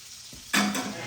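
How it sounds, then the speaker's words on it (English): Cheesesteak sausage drops into a hot pan and breaks into a loud, steady sizzle, preceded by a brief soft clunk, close and alone without talk. "Let's get it frying."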